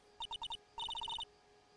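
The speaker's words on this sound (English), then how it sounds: "Oh god, my cell phone." A cell phone rings in the Ace Attorney Trials and Tribulations video game: two quick bursts of bright electronic beeps, four then eight, separated by a short pause, with no talk.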